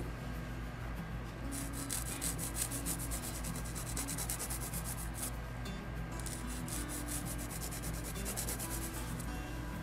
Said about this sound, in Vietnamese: Cái này là mình giũa sơ thôi ha, không có cần phải theo cái hình dáng gì hết, miễn cho nó tròn hai bên khỏe là.